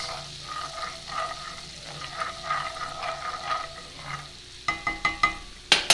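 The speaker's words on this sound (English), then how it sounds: "Okay, here's our garlic. You want to just saute that about 30 seconds." Minced garlic, about a tablespoon, sautés in melted butter for slow-cooker pork gravy, giving a steady soft sizzle with stirring scrapes, then a few sharper utensil taps near the end.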